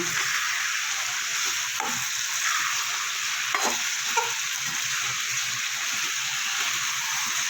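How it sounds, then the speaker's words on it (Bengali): Chicken is sautéed and fried with spices for a simple curry, a continuous hissing sizzle punctuated by a few soft stirring knocks, close and steady. "দিয়ে মশলার সাথে ভালো করে কষিয়ে নেব"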